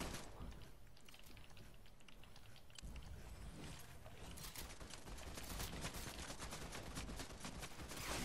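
Video game gunfire crackles in dense, rapid bursts against a constant noisy wash of game sound, fairly faint and continuous throughout.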